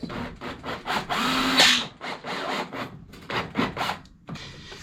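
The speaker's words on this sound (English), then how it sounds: "Obviously when you drill them, don't go in through to your second layer." A power drill bores holes to fix a piece in place during an oil boiler installation, heard as short rasping bursts with one longer whine, close and moderately loud between pauses.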